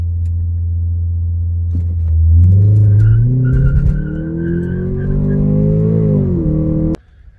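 Ford Focus T+ launching hard from a standstill, engine rumbling then climbing in pitch as the tires squeal loudly for several seconds before cutting off abruptly.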